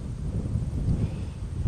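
Wind buffets a microphone outdoors during a landscape painting session, a steady low rumbling roar with no breaks that fills the whole stretch at moderate level.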